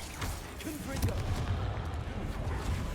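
A Confringo fire spell blasting in Hogwarts Legacy during a troll fight: a booming burst with a rumbling low tail, followed by continuous crackling combat noise, with a voice faintly underneath.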